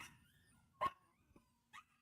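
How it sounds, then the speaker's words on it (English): Dogs bark indoors in short, separate bursts, a sharp bark followed by a softer yip and another bark, fairly faint against a quiet room with a low murmur in the background. "you got dogs just going woof a woof"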